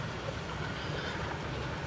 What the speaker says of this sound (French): Là, il y a un autre train, regardez.